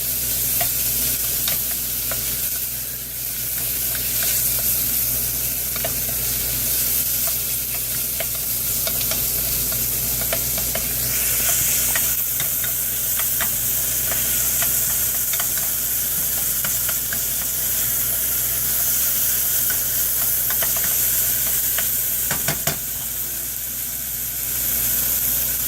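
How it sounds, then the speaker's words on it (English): Beef and onion sear in a frying pan with a steady, loud sizzle that runs unbroken throughout, broken by occasional stirring scrapes and pops close by. "after that's cooked a couple of minutes, you'll notice that the meat here is pretty well seared all over"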